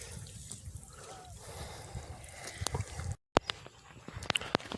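Irrigation water flows down a channel on a farm field, a quiet steady trickle with scattered drips and splashes, a brief dropout, then sharper splashy bursts near the end.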